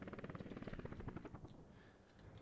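Helicopters in the Workers and Resources city-building game thud with a fast, rhythmic rotor chop that stays faint and distant, fading slightly toward the end.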